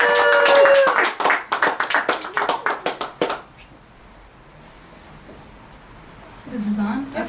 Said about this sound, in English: Let's give a nice round of applause to Reverend Lucas